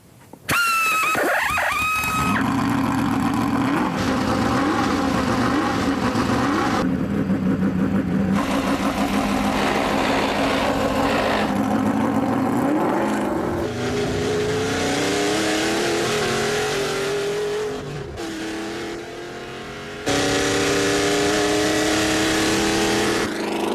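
A Lotus race car engine is started and revved, cranking with a brief whine before catching, then blipping and climbing through loud, raspy revs with short drops between bursts, close by.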